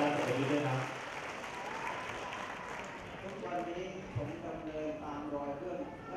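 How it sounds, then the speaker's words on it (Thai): Audience applause at a Thai television programme event, a steady wash of clapping that runs through the whole stretch while a voice talks over it. "ขอเสียงปรบมือท่านอาจารย์"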